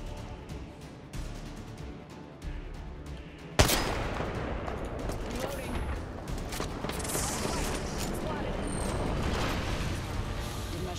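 Gunfire in the shooter game Apex Legends, a sudden loud burst followed by sustained rapid shots and mechanical clatter, with players' voices faint in the mix.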